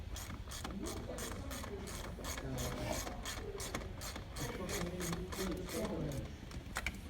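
Ratchet wrench tightening a fastener during airbag and restraint work on a vehicle, a steady run of quick, close clicking that continues throughout, with faint voices in the background.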